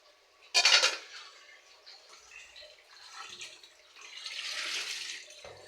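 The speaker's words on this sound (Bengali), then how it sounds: "তারপর তো মাছটা ধুয়ে নিচ্ছি, ধোয়া হয়ে গেছে, আর একটু ধোবো।" Rohu fish being washed under running water in a kitchen sink, a sharp splash and clatter at the start followed by uneven trickling and rinsing that swells again near the end, close and moderately quiet, with no talk.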